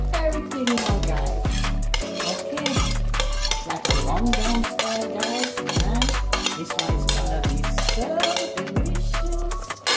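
Saltfish and seasoning being mixed in a pot: loud, rhythmic clanks and scrapes of a utensil against the pot in steady repeated strokes, close up, with a faint sizzle and a voice speaking briefly.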